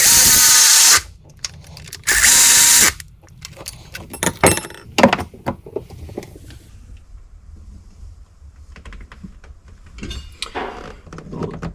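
A power tool zips nuts down on a 2017 Yamaha SX195 boat engine in two loud bursts, followed by lighter clicks and metallic clinks of the tool and the hardware.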